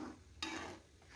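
Herbal hair oil boiling in a pan and being stirred, a soft bubbling hiss with a brief louder scrape and sizzle burst partway through, close and fairly quiet.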